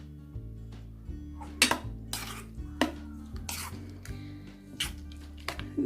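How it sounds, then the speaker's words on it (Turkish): A spoon stirring celery salad with yogurt and mayonnaise in a bowl, close repeated clinks and scrapes against the bowl in an irregular rhythm, fairly quiet over a low background hum. "Ardından direkt kaşık yardımıyla karıştırıyoruz"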